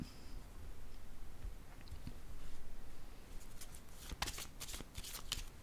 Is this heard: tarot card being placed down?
yes